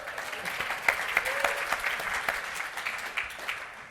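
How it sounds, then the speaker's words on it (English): A small podcast audience gives a round of applause for the sound technician, scattered individual claps at moderate distance, fairly quiet and steady across the few seconds. "How about a round of applause for sound guy?"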